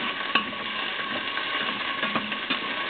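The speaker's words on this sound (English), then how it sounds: "I will actually saute them together with the garlic and the" Pork sautéing together with garlic and onions for a tomato-based pork mechado stew, a dense steady sizzle with a few soft stirring knocks, close and without speech.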